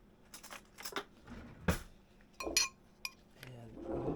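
Metal spoon clinking against a pot and glass jars while pickled beets are prepared in a kitchen, with a few sharp separate clinks and clatters scattered among softer handling noise.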